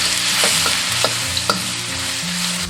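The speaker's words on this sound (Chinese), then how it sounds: "锅中倒少许食用油，下入一半的蒜蓉，" Minced garlic stir-frying in a little oil over medium-low heat in a wok, a steady close sizzle broken by several light spatula scrapes and taps, no talking.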